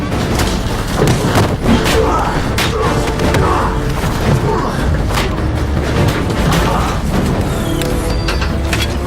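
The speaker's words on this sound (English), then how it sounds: "We're right on top of the main hub, and it's gonna blow." Explosion scene from the 2005 film Batman Begins, a dense, loud rumbling roar of blasts, crashing debris and heavy thuds filling the whole stretch without letup.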